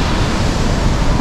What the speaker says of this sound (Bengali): জলটা ওইখান দিয়ে পড়ে এদিক দিয়ে যাচ্ছে।